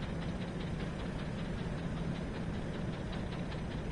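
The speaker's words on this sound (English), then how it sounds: "It's a fucking loud ass engine." A loud, steady engine drone from the video game Ark, a continuous low rumble with a faint rhythmic knock running unbroken throughout.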